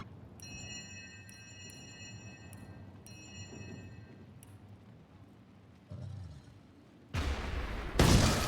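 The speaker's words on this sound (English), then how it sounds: "Why was there a charm explosion?" A charm explosion spell goes off during combat in the fantasy role-playing game Divinity: Original Sin, arriving as loud broadband bursts near the end, after quieter game chimes and low rumbling.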